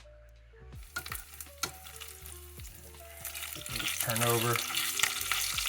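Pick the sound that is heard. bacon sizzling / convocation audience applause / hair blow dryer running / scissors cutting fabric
bacon sizzling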